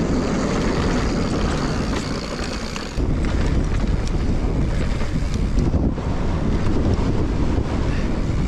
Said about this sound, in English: Windy today, holy.